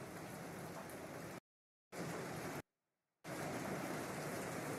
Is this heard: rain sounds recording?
yes